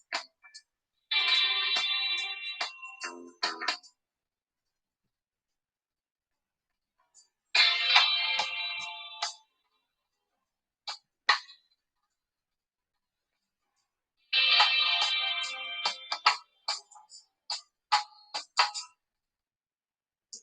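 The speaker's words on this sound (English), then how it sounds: "That's a heck of a good notification tone. That's a WhatsApp" A phone's WhatsApp notification tone plays in three separate bursts of bright, chiming electronic notes, each followed by scattered clicks, with silence between them.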